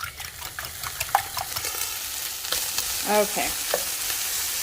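Eggs frying and being mixed in a pan give a steady close sizzle with stirring scrapes throughout, while a voice speaks one brief word.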